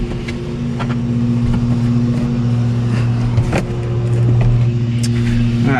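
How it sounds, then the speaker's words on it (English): A neighbour's lawn mower runs steadily nearby, its engine a loud, continuous droning hum with little change in pitch, without speech. "My neighbor is mowing the lawn."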